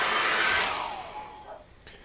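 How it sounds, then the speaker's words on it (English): A hair dryer blows over wet acrylic paint on a canvas, a loud, close whooshing roar that starts strong and then fades as it winds down and switches off. "I'm just gonna get the hairdryer on that, and we'll get that dry"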